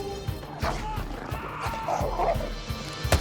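A dog in a scene from the film Nobody gives short yipping barks and whimpers amid action sounds and thuds, fairly close, partly under people talking.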